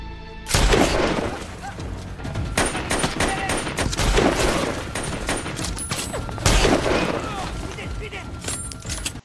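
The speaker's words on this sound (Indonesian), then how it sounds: "Gazakov langsung menembaki tentara Georgia untuk memancing tim sniper." Gunfire in a sniper film rattles in repeated loud bursts and volleys of rapid shots, with sharp cracks and booms layered over dramatic background sound throughout.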